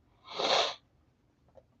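A single sharp sneeze bursts out close by, followed by a brief faint sniff.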